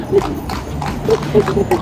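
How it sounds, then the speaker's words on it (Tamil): Horses walking on a beach during horse rides, with a few soft hoof clops in an uneven rhythm under people talking nearby. "இங்கே குதிரை சவாரி தான் நிறைய குதிரை போகுது பாருங்க"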